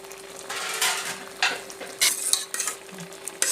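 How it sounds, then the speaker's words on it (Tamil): Cooked pumpkin pouring into cooked dal for Tamil pumpkin erissery, a soft wet splashing and stirring texture with a few brighter bursts and a faint steady tone underneath, close and moderately loud, no talking. "இப்போ இந்த வேக வச்ச பருப்பில் வேக வச்ச பூசணிக்காவை நம்ம ஊற்றிடலாம்"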